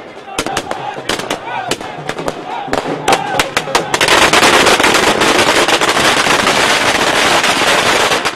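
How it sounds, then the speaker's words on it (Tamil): Strings of firecrackers burst at an election victory celebration, first as scattered sharp loud cracks, then merging into a dense, continuous rattling crackle, close and alone without talk. "இதனை அக்கட்சி தொண்டர்கள் உற்சாகத்துடன் வெடிவெடித்து கொண்டாடி வருகின்றனர்."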